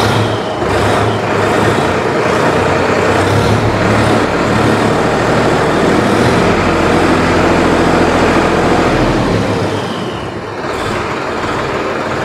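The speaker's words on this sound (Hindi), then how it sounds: "750 RPM पे कैसा आपको इंजन का आवाज़ मिलता है," A Solis Yanmar 4215 E 2WD 43 HP tractor diesel engine runs at about 750 RPM and is revved up, a loud, steady low rumble that holds throughout and dips slightly near the end.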